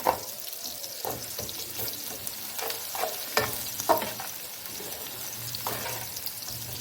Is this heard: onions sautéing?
yes